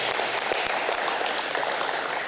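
Audience at an international school literacy celebration in northern Japan giving a round of applause, a full, continuous burst of many hands clapping close and loud for the whole stretch.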